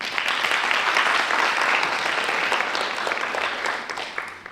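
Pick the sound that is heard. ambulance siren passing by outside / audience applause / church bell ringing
audience applause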